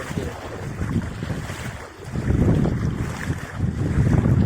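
Heavy downpour with rushing water and gusting wind, a loud, rough roar that swells, dips briefly near the middle and surges again, with wind buffeting close to the microphone.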